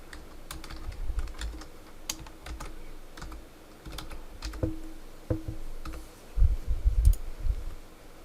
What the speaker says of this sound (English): so I'm going to go ahead and type that in there